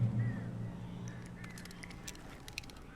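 Crows caw and croak in Alan Wake Remastered, a few low honking calls near the start followed by scattered short, sharp cries over a steady ambient bed.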